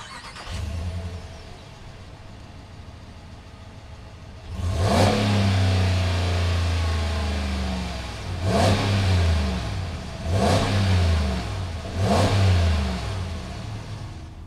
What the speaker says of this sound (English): Let's go ahead, fire up this Hemi and see what it sounds like.